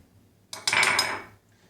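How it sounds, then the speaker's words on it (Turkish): A spoon stirring coffee in a cup gives a short burst of metallic clinks and scraping, close and brief, in otherwise quiet surroundings. "Kaşığıyla karıştırıyorum."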